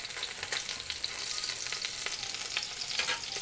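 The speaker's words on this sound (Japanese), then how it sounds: "皮面をこうずっと焼いていくと" Fish skin-side down pan-frying in oil for acqua pazza, a bright constant sizzle with small popping spatters, close and fairly soft, no talk.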